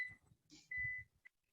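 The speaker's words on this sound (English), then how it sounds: "my UPS does this beep sound" A UPS battery backup running on low mains voltage gives faint electronic beeps, one short tone followed by a longer sustained beep and a brief blip, under quiet background noise.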